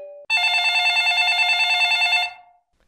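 A short tone, then a loud electronic telephone bell rings in a cartoon in one continuous trilling burst of about two seconds before fading out.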